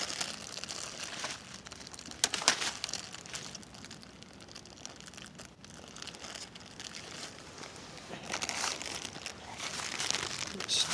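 Crinkling plastic packaging rustles and crackles as a new SD card for a Simmons trail camera is dug out, a steady close rustle that swells near the end, with faint speech underneath.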